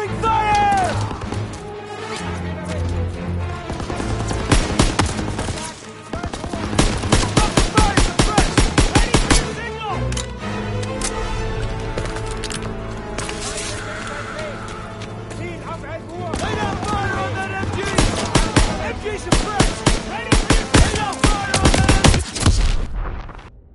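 Machine gun fire in Call of Duty WW2, loud rapid bursts crackling repeatedly amid battle noise, with shouted voices of soldiers mixed in throughout.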